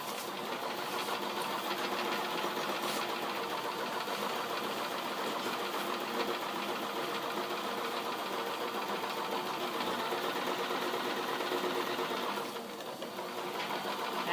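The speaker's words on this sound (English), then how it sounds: "We're going to sew all the way down to the bottom of your bag, keeping it at 5/8 inch." A sewing machine runs steadily, stitching a bag seam at a 5/8 inch allowance, with a continuous even whir that stays fairly faint and alone for the whole stretch, easing off briefly near the end.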